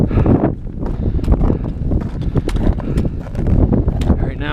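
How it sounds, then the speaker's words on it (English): Strong wind gusts buffet the microphone on a winter mountain hike in the Cascades, a loud continuous roar with rumbling surges throughout. "wind is picking up"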